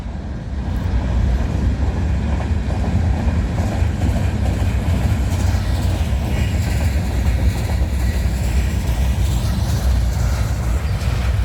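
A CN Rail freight train rolls past close by, steady loud rumble and rail clatter of its cars running continuously throughout, with no talk.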